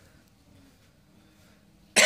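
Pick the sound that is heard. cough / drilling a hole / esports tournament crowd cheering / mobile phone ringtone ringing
cough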